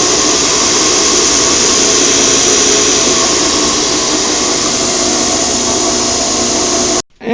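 A KMG belt grinder runs at full speed, producing a loud, steady whirring roar with a strong sustained hiss that holds evenly before cutting off abruptly near the end.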